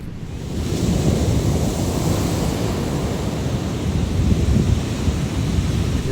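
Ocean surf on the Redwood Coast near Ferndale rolls in as a steady, broad roar of breaking waves, with wind buffeting the microphone throughout and no voices.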